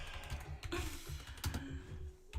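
Rapid clattering keystrokes on a computer keyboard, close and fairly loud, coming in uneven bursts with short pauses between them, with no voices over the typing.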